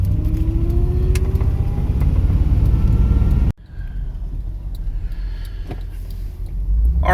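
A car drives along, its steady low engine and road rumble constant for about three and a half seconds before a sharp cut to a quieter, hollower cabin drone that swells again toward the end.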